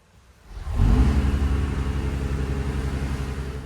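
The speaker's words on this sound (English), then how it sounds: "put the car, for the sake of sound, straight into race mode and turn this car on" A Mercedes-AMG CLE 53 Cabriolet engine bursts to life in race mode with a sharp rev, then settles into a loud, deep, throbbing idle close by.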